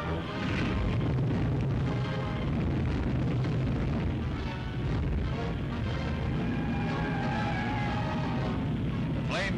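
Gasoline storage tanks blowing up in a huge fire at a 1959 Kansas City bulk storage plant, heard as a continuous roaring blast and rumble that stays loud and dense from start to finish.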